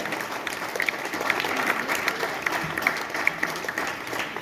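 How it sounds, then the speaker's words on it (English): Audience applause at a 2024-25 result announcement session, greeting a third-rank award; steady, dense clapping of a moderate-sized crowd at middle distance, continuous for a few seconds without a break. "clapping"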